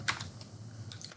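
Quick keystrokes on a computer keyboard while C code is entered, a short run of soft, close clicks with no talk over them.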